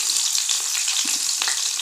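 A tadka of green chillies sizzles and crackles loudly in hot oil as a tempering for moong dal. The frying hiss is dense and continuous, with small pops, and no voices.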